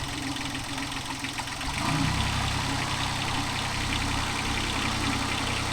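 A JCB 3DX backhoe loader diesel engine idles with a rough knock, then revs up partway through and holds a louder, deeper roar close by.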